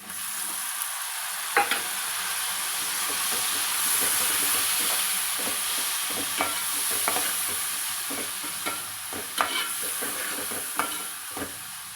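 Chopped tomatoes fry in a pan with curry leaves, giving a continuous close sizzle and hiss broken by sharp scrapes and clicks as a spoon stirs them now and then.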